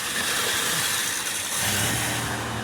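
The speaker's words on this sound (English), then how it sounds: "Now it runs like it should be running." A 2000 GMC Jimmy engine running steadily after a fuel pump fix, heard close as a continuous broadband roar with a slight rise in pitch partway through.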